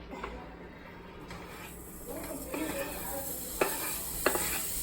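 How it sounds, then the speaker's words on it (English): Sausage cooking in a pot on the stove gives a soft, steady sizzle, with a few stirring scrapes and clatters of a utensil against the pot standing out near the end. "Now we're cooking the sausage."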